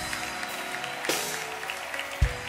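Church congregation applauding and acclaiming God during a French-language sermon, a diffuse steady wash of clapping and crowd noise with a brief louder burst near the end.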